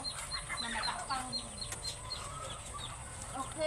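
A white chicken clucks inside a backyard coop in the rural countryside, scattered short clucks over a steady noisy background, fairly close but not loud.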